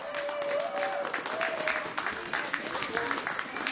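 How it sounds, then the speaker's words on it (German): Audience at a gospel choir evening in a farm venue applauding warmly, many hands clapping at moderate distance with a few voices and a faint tone carried over the clapping. "Ein großer Applaus."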